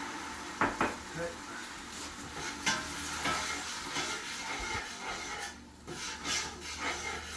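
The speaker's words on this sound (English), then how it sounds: "Definitely want to keep stirring it because you don't want the onions or garlic to get stuck to the bottom" Onions and garlic stirred in a pan with a dry-wine tomato sauce: a steady close scrape and rub of a spoon on the pan over a soft sizzle, with a few sharper knocks, and no talk.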